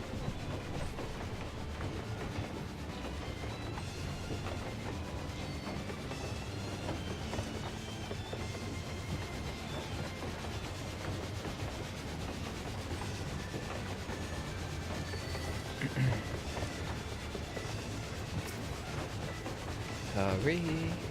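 Rumbling train clatter from the train boss fight in Final Fantasy XIV, a dense, steady mechanical roar with rhythmic clacking that holds throughout, with a brief sharper burst near the end.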